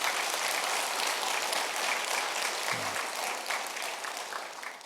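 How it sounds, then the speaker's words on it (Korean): Congregation at an early-morning prayer service in a Korean church applauding, a steady close round of clapping that gradually fades toward the end. "박수 한번 쳐주시기 바랍니다"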